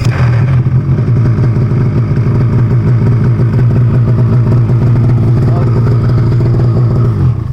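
Polaris 850 snowmobile engine on a cold start, a loud close rumbling idle with rapid uneven firing pulses, running continuously with voices faintly over it.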